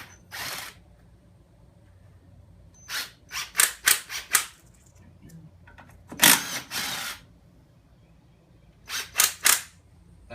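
A Craftsman impact wrench rattles off 14mm lug nuts on a 2004 Polaris Trail Boss 330 ATV, with short loud bursts in clusters separated by quiet pauses.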